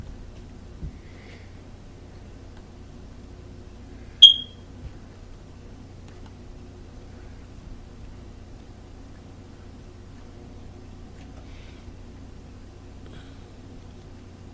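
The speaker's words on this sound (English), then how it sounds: "smoke detector that's going off there, that beeping sound?" A smoke detector gives one short, high electronic chirp in a school board meeting room, over a low steady background hum.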